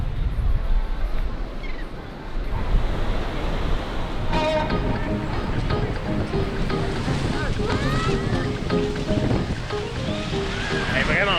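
Ocean surf at Siesta Key beach rolls in a steady wash with wind buffeting the microphone, while people talk over it.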